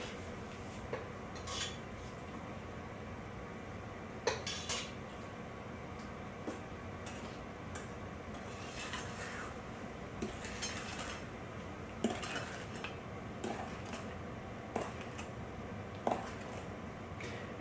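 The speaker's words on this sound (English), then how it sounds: "then we're going to put the whole thing in and whisk it all up" Whisking a tempered mixture of egg and milk for a pawpaw crema bianca pudding, with a steady metallic scraping and clinking of the whisk against the bowl, moderately close, with no talking.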